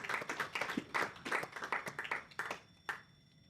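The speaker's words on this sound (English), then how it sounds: "another round of applause for her" Applause from a small audience after a talk, a sparse scatter of individual hand claps, fairly close and quiet, tapering off to a few last claps and then near silence.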